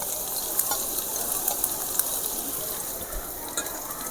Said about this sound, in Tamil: நல்லா வதக்கி விட்டுங்க.